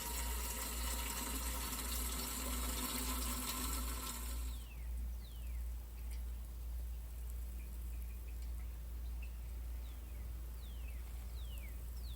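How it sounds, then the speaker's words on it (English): Water sprinkles and hisses continuously over soil freshly sown with carrot seeds and dusted with peat moss. The spray is fairly close and steady, then drops to a softer trickle with faint drips partway through. "And then I'm going to water it all."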